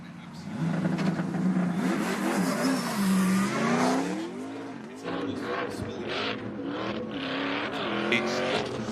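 A drift car at the 2023 DMEC Round 2 qualifying in Sweden launches and accelerates hard into the first corner, its engine revving loudly with rising and falling pitch and tyre noise, heard under a commentator's continuous talk.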